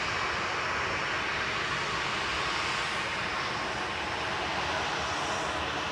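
A TUI Boeing 737-800 landing at Manchester Airport, a loud, steady broadband roar of jet engines that holds constant and unbroken throughout.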